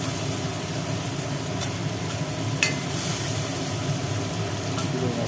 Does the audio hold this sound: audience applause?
no